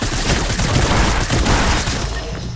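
Sustained gunfire aimed at the player in an online shooter game, a dense continuous burst of loud shots and blasts filling the moment with no pause.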